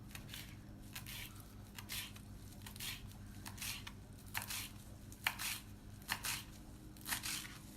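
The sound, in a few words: cutting the head of a cilantro bunch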